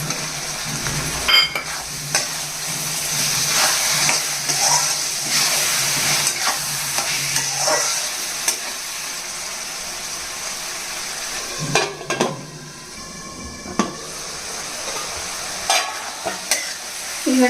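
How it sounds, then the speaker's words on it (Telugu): Tomato pieces sizzle and fry with softened onions in a pan for chicken curry, a steady close crackle broken by repeated scraping stirs of a spoon. "ఇప్పుడు టమాటా ముక్కలు వేసేసుకోవాలి"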